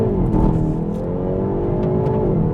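A 2022 Hyundai i30 N with a dual-clutch transmission revs hard and builds steadily under acceleration, a loud, continuous rising drone close by with no talking.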